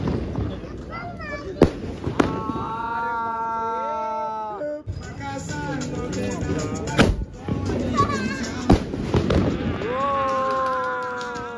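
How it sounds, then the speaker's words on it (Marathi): Diwali firecrackers burst in sharp, loud cracks at irregular intervals, several close pops standing out over whistling fireworks and excited voices talking and laughing nearby. "इकडे बायको बरोबर फटाके फोडायला लागतात"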